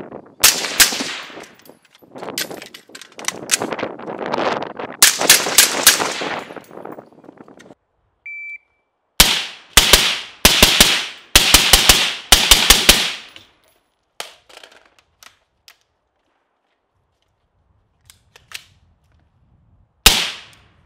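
Rifle shots fired through a YHM Turbo K 5.56 suppressor, with a volley of sharp, loud reports in quick bursts followed by a single final shot, outdoors.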